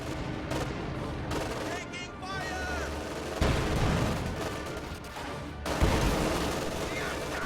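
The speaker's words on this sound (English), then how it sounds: "Shots are bouncing off its frontal armor." Gunfire and shell impacts striking a Panther tank's frontal armor in a World War II strategy video game, a continuous dense battle soundscape of shots and booms with sharper hits near 3.4 and 5.8 seconds, with game voice chatter mixed in.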